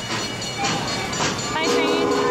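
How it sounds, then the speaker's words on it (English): An animatronic toy train in a supermarket display rolls along with a whistle-like tonal sound over busy store crowd noise, while people talk nearby. "Can you hear the train coming? Coming down the tracks."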